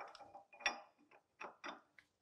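Wrench working on the collet of a Kearney & Trecker 2D rotary head mill, giving a few quiet metallic clicks, ratcheting scrapes and creaks in short bursts with pauses between, faint and close.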